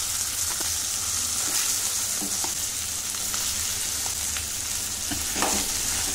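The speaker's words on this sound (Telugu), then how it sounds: "ఆవాలు, జీలకర్ర, ఎండుమిరపకాయలు, పసుపు, కరివేపాకు వేసి వేయించి పచ్చడిని పోపులోకి వేసి 1 నిమిషం పాటు కలుపుకోవాలి." Mustard seeds, cumin, dried red chillies, turmeric and curry leaves sizzle in hot oil as gongura (sorrel leaf) and tomato chutney is stirred into the tempering. A constant loud frying hiss carries faint scrapes of stirring, with no talking.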